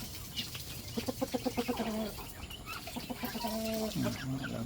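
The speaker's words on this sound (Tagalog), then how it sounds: "Patuka tayo ng ating alagang manok." Pet chickens clucking while being fed, a quick run of rhythmic clucks followed by softer, drawn-out calls, fairly close, over faint background noise and some scratching.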